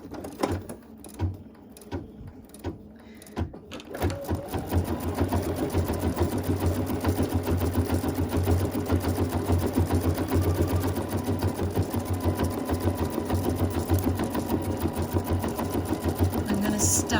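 Sewing machine stitching embroidery through fabric with cutaway stabilizer floated underneath, starting with a few halting stitches and then running in a fast, steady mechanical whir for a long stretch, close by.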